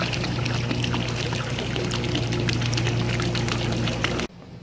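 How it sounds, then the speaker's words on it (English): Drinking water pours steadily into a pool in a loud, continuous gushing stream that cuts off abruptly just before the end. "Today I'm gonna be finishing filling up my pool with drinking water."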